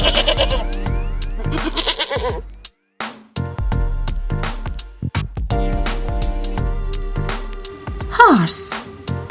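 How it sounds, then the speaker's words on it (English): Goat bleating in wavering cries against a constant bed of upbeat background music, with a sharp high squeak near the end. "Goat."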